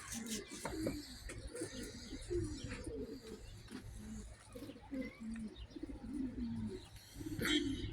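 Pigeons coo and chirp close by as birds land near a perch. Soft coos repeat irregularly, mixed with light shuffling and faint background noise.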